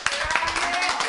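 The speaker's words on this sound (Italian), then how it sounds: "parte l'applauso quando dice tifa Inter" Studio audience of an Italian football talk show applauding a young Inter fan, brief lively clapping under a voice that speaks over it.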